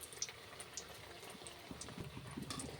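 Bottle gourd bullets deep frying in hot oil give a faint, steady bubbling sizzle with scattered soft crackles throughout, no voices.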